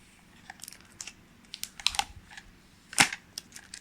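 Blue protective film is peeled off a wireless Switch-style game controller, producing close, irregular crackling and sticky tearing snaps that build to a sharper rip near the end, with no speech.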